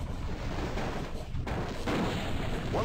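Artillery fire strikes a mech in the MechCommander 2 strategy game, a steady rumbling barrage of dense, continuous low booms with a few sharper impacts near the end, loud and without pauses.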